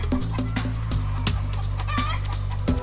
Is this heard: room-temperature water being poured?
no